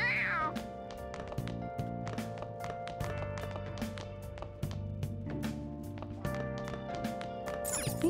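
Several cat meows in the video game Persona 5 Royal rise over steady game music with light tapping footsteps, the meows high and fairly close.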